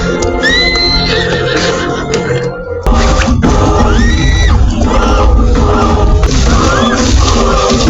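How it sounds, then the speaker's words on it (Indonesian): A raging horse neighs in several loud, shrill whinnies, close by, with hoof clatter and agitated crowd noise around it. "terlihat Ajeng sedang mengendalikan kuda yang mengamuk."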